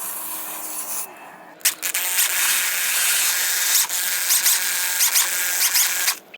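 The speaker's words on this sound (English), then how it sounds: "It's easiest to do this with a drill and a mixer attachment." A power drill with a mixer attachment starts up and whirs steadily while churning thick concrete mix, with brief stops and restarts and a scraping, grinding texture throughout.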